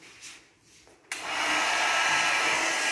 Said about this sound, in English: I will use hair dryer, warm gentle current of hair dryer to use this